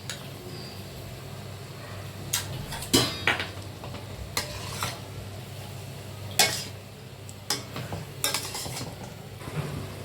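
Ground mustard-poppy paste being stirred into cooked pumpkin greens and vegetables in a pan for Bengali chochhori, with intermittent clinks and scrapes of a spoon against metal over a faint background hiss.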